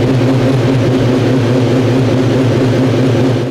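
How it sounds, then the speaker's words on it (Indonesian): Loud, steady engine drone from a BMW HP4 Race limited-edition superbike, a dense harmonic roar holding constant for a few seconds with no voices. "Ini adalah sebuah motor limited edition yang diproduksi oleh BMW 750 unit di dunia."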